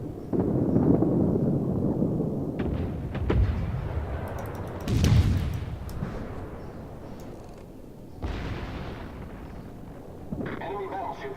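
Heavy naval guns boom from warships in World of Warships, several loud broadband blasts rolling out over a few seconds amid steady game noise, with voices present.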